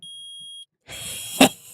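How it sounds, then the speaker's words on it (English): A metal detector alarm in the Phoenix Wright: Ace Attorney video game, a short steady electronic tone followed by a brief loud burst, clean and close with no talk. "I permit the use of the metal detector."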